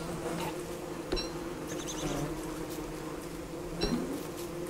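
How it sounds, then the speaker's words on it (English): Bees swarm in Don't Starve Together, a steady low drone of buzzing holding throughout with a few sharper chirps and clicks over it, fairly quiet and continuous. "I have a ton of bees after me"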